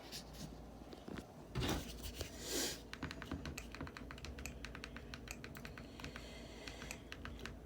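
Keys clatter as a password is typed on a keyboard, a quiet, irregular run of close taps with a couple of slightly louder bumps near the start.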